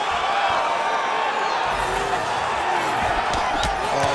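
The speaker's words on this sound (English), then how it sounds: "that punch elicited a reaction from the crowd" Arena crowd in EA Sports UFC 5 roaring in reaction to a landed punch during a women's octagon bout, a steady loud wash of cheering with a few sharp impact thuds near the end.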